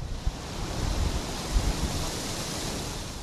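Steady, roaring Arctic wind on the coast of Novaya Zemlya buffets the microphone with broad rushing noise and occasional low gusty thumps, continuous throughout with no voices.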